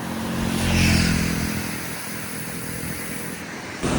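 A motorcycle passes along an open road, its engine swelling loudly toward the middle and then fading to a steady rumble, with another vehicle approaching at the end.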